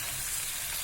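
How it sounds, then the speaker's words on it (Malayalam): French fries deep-fry in hot oil, giving an even, dense sizzling hiss that holds steady throughout. "നമ്മുടെ ഫ്രഞ്ച് ഫ്രൈസ് ഇവിടെ നല്ലപോലെ മുരിഞ്ഞ് വന്നിട്ടുണ്ട്"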